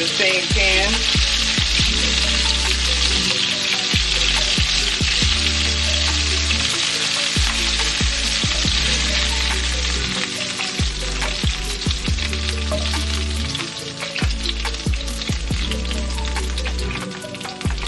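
Cooked chicken wings sizzle and crackle steadily in a frying pan, a loud close spitting hiss with occasional clinks and thumps of handling throughout.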